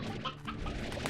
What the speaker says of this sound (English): The Roostro is a game's version of a rooster.